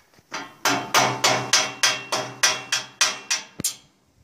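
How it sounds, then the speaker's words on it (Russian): Hammer blows knocking tack-welded metal pieces off a welded gate frame, about twelve sharp ringing metallic strikes in a steady rhythm, loud and close with no talk. "Они на прихватках, ее даже не надо пилить, я сейчас их отобью."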